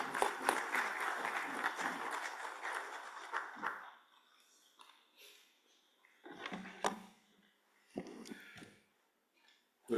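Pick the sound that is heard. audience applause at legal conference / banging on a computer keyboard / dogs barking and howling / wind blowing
audience applause at legal conference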